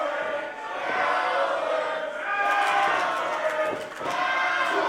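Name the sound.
raucous sold-out wrestling crowd jeering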